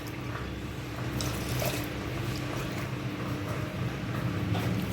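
Water pouring steadily into a cooking pot to boil kuthiraivali (barnyard millet) pongal, a continuous splashing gush at close range with no talk.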